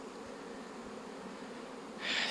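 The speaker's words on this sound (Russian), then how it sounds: "Все пчелы высыпали на дружный облет, я думаю, уже молодняка теперь." Honeybees in a spring apiary buzz in a continuous droning hum as the colony flies out, with a nearer, louder bee sweeping past at the end and no talk.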